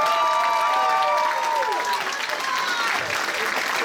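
Audience at a convention masquerade applauds and cheers, a sustained wash of clapping with a whoop or two; a voice speaks briefly over the start.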